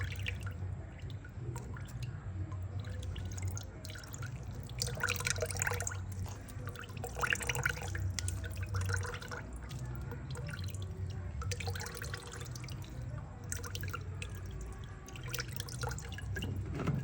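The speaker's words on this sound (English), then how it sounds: "Alright, so we're straining this out." Homemade Jamaican ginger beer, made with ginger, strained through a strainer with soft, steady dripping and trickling of liquid, close by and fairly quiet, with occasional brief louder splashes.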